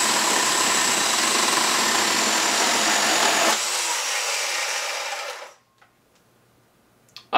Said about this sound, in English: let's compare it against a regular electric chainsaw